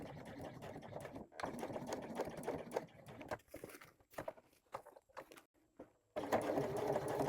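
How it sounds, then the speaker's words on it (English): A sewing machine stitches a lining seam close up, whirring in steady runs that stop and restart in short bursts before a final continuous stretch. "sew towards the outside edge of the lower part of my lining"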